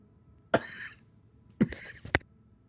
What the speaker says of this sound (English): decided I'd have a little coughing fit